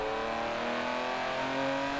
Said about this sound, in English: This actually sounds pretty good for a twin turbo engine.